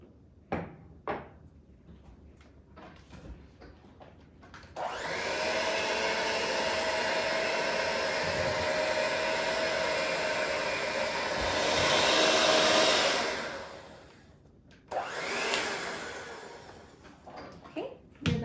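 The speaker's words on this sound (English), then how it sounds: "we're going to use the mixer to blend it all up" An electric mixer blends almond cake batter, a steady whirring drone that runs for about ten seconds after brief opening sounds, swells slightly near the end, then cuts out before a short second burst.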